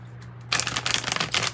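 A tarot deck is shuffled at close range for about a second, giving a dense, riffling burst of card flicks over a low steady hum, with no talking.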